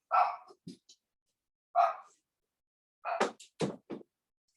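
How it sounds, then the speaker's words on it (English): A security dog barks in short bursts indoors, a single yelp followed by a quick flurry of loud, close barks with pauses between, and no talk over it. "Got the security dog here"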